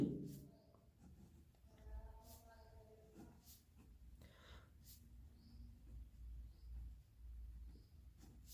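Pen writing out a Class 10 maths answer on the length of a kite string, heard as faint scratchy strokes in short bursts beneath someone speaking Hindi throughout.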